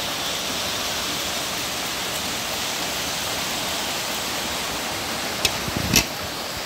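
Heavy rain pours outside a window in a dense, steady roar that stays constant throughout, with a couple of brief knocks near the end.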